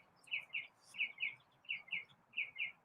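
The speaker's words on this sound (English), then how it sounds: "The birds are active in the piney woods this morning." Birds chirping in pine woods in the morning after a storm, with a repeated pattern of paired bright tweets in regular rhythm at moderate distance over a low ambient hush.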